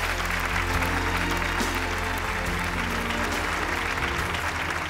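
A studio audience on a Chinese TV talk show breaks into sustained applause as a guest, the father, is welcomed, with dense clapping holding loud and steady throughout, music faintly beneath.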